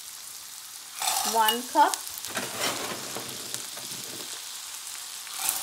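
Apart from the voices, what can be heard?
green peas sautéing with vegetables in a pan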